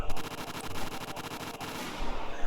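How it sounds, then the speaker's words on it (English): Dense, continuous gunfire from soldiers in a video game, rapid rattling shots overlapping into a steady barrage with no pauses across the short stretch. "The sound of the gunshots echoed in the silence."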